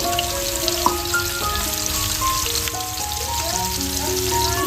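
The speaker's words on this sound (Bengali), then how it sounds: "সবকটা চিংড়ি আমি ভেজে নেবো" Steady crackling sizzle of prawns frying in hot oil, close and continuous with small pops, over a faint background tone.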